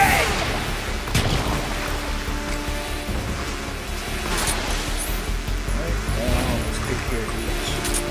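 A grenade goes off in Metal Gear Solid 3: Snake Eater with a booming burst, amid rumbling combat noise, sharp bangs and a voice speaking over the mix.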